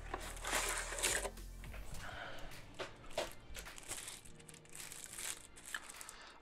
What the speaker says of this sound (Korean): 박스를 열어보면